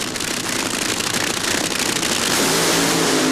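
Nitro-burning NHRA drag racing cars with roughly 4,000 horsepower engines at the 1989 California Nationals, a loud, dense, continuous roar that builds steadily in intensity, with no voices.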